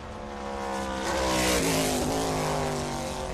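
Trans Am Series race cars at Barber Motorsports Park, their engines climbing and dropping through quick gear changes, loud and close and building to a peak as they pass, with faint track commentary barely present.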